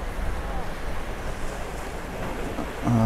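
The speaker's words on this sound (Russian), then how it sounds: "Очень большие волны." Large waves break on a quiet Red Sea resort beach at Sharm el-Sheikh, a steady roar of surf mixed with wind rumble on the microphone, continuous throughout.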